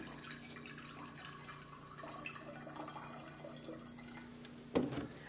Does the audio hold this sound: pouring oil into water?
yes